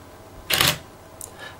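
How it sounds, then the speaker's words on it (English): A DSLR camera shutter fired by a Raspberry Pi gives one crisp mechanical clack in a quiet room, followed by a faint small click a moment later. "if I press the button to activate pin 17, you should hear the camera shutter operate"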